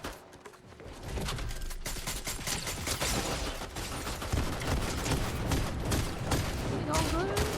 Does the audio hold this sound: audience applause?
no